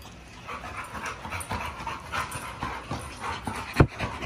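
An XL Pitbull pants steadily at close range in rapid, breathy bursts, with one sharp louder sound near the end.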